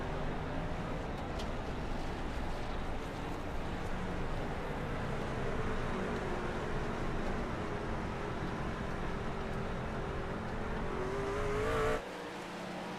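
A damaged race truck engine, losing power, drones steadily with a rough, sputtering, low, uneven rumble at Dover, then cuts off abruptly near the end, leaving quieter background noise.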